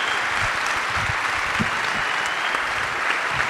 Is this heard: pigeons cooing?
no